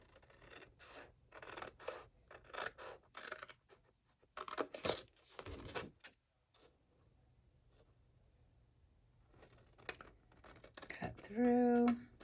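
Scissors cut through paper for a wedding album in a series of crisp snips and slicing strokes, close and intermittent, separated by quiet gaps, with a faint voice at moments.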